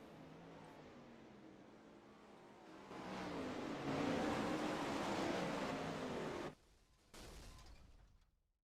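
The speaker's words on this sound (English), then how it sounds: "we're gonna listen to some dirt cars while they go through their practice session" Dirt track race cars, 410 sprint-type outlaw series machines, roar around a dirt oval during a practice session, a broad continuous engine rumble swelling louder midway as cars pass close, then briefly dropping before returning.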